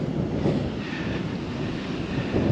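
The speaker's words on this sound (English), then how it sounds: "You might not be able to hear jack all because it's windy as all." Strong wind blows on a sandy Alaskan coast, a steady buffeting roar across the microphone with gusts swelling at the start and end.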